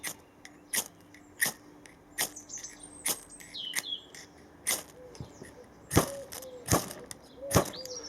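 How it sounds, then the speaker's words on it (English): A sharpened awl on a Bahco MTT-8674 budget multi-tool scraped against a fire steel, a series of about a dozen sharp, bright rasping strikes at an irregular rhythm, close and fairly clear. "it can also be used to strike a fire steel"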